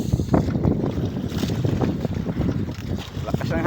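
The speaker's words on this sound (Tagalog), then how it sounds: "Lakas ng hangin." Strong wind buffets the microphone at sea aboard a fishing boat at night, a continuous rough roar of gusts with people talking over it.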